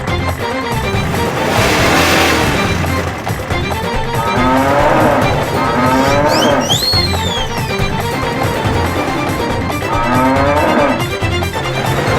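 A comic sound effect plays as Yamraj's bike is started. A buffalo-like lowing mixes with revving, engine-like sweeps and a squeal, loud and continuous for about twelve seconds.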